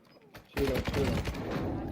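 Gunfire in the video game DMZ, a rapid burst of automatic shots after a brief quiet lead-in, close and punchy, with a voice talking over it.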